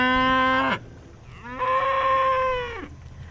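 A cow on a farm moos loudly twice nearby, a long bellow followed after a short pause by a second, slightly shorter call.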